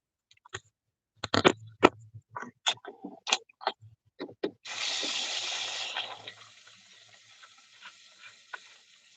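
Bleach and water are poured into a bottle, preceded by a series of close plastic clicks and knocks, then a short hissing gush of liquid that tapers off into faint handling noise.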